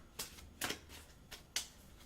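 Tarot cards are shuffled by hand in a few quiet soft riffles and flicks, spaced irregularly over faint background hiss.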